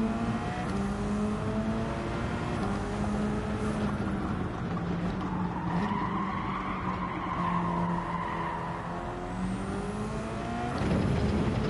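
A six-speed race car in Gran Turismo 7 on PS5 gives a sustained engine drone with shifting pitch and tire squeal through the turns, running for about twelve seconds with no voice over it.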